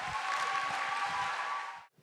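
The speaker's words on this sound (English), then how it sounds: "So please give a warm round of applause for these folks." A concert audience at Mehfil Massive applauds, a dense, steady wash of clapping that holds for about two seconds and then cuts off sharply.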